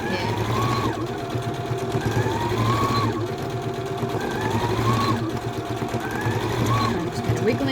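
A sewing machine runs a zigzag stitch across a T-shirt bib, its fast mechanical chatter near and continuous and pausing briefly at intervals, while a person talks over it.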